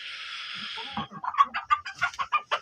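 Chickens in a coop give a rapid series of close clucks after a brief hiss of noise, the calls coming in a quick, uneven rhythm.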